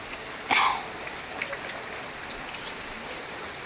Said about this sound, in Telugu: ఫుల్ వాన అయితే పడుతుంది.